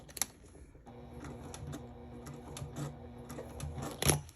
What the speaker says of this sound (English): So I'm sewing up towards where I'm going to start curving